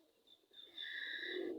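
Pigeons on a rooftop coo and call softly at feeding time, a faint, close sound that swells and grows steadier toward the end.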